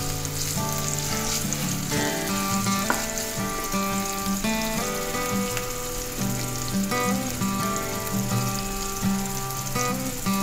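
Chicken and egg noodles fry steadily in a pan for Chinese-style fried noodles, giving a continuous close sizzle with occasional tonal scraping and clinking from utensils, no voices.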